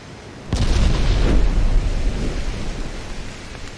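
Heavy shell explosion in the naval combat game Ultimate Admiral: Dreadnoughts, wrecking a ship's secondary tower: a sudden loud boom followed by a long rumbling roar that slowly fades.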